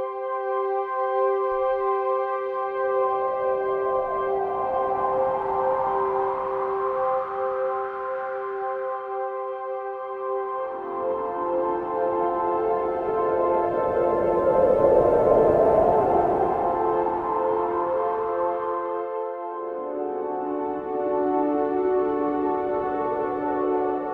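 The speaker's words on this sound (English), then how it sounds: "using the mod wheel and controlling the Mirage layer just adds in an extra kind of sound design element to it" Deep Blue synth layers in Kontakt sustain a chord while the mod wheel blends in the Mirage layer, with slow sweeping tones rising and falling over long held notes, smooth and evolving with no talk.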